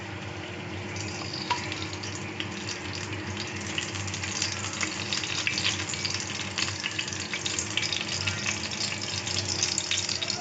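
Ghee sizzles and fries in a pan, making a continuous dense crackle that builds slightly louder over ten seconds, with no talking.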